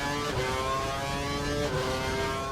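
F1 cars thunder down the pit lane in F1 2012, a German Grand Prix race in the video game, with a sustained engine whine that shifts pitch partway through, steady and loud, with no voices.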